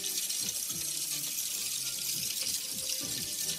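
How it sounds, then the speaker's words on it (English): Water running steadily from a bathroom tap during handwashing, a continuous broadband hiss with no voices over it. "First, turn on water tap. Next, use soap in my hands to wash."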